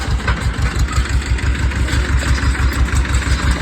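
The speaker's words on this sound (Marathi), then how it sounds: "काय कसला बारका छोटा ट्रॅक्टर" A small tractor engine idles loudly up close, chugging in a steady, rapid rhythm without pause.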